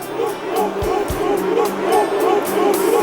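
A football crowd in Spain shouting racist abuse at England players, a loud roar of massed voices with rhythmic chanting surges and a few sharp nearby shouts.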